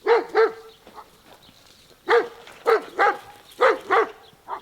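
Dogs bark at nearby horses: about seven sharp barks, mostly in quick pairs with short pauses between them, fairly close and with no voices over them.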